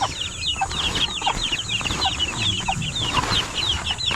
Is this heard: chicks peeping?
yes